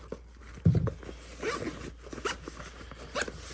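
A soft-sided NVG pouch for night vision goggles is zipped closed by hand: a short, fairly loud zip that fades into light handling and rustle, with no talking.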